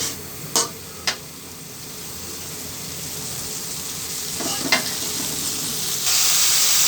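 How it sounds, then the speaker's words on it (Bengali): Spice paste for a milk-based koi fish curry sizzles loudly in a pan while being stirred, with a couple of sharp spatula scrapes at the start, another near the end and a rising hiss in the final second. "এখন আমি একটু নেড়ে চেড়ে নিব। মশলাটা একটু কষিয়ে নেব যেন ভাজা ভাজা হয়।"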